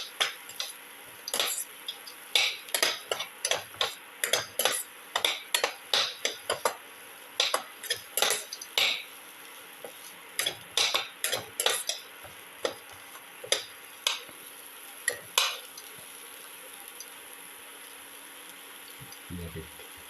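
Salted ginger pieces stirred in a pot or pan: rapid, uneven clicking and tapping of a utensil against the vessel in quick bursts for most of the clip, close and fairly faint, then thinning out near the end, with no talk.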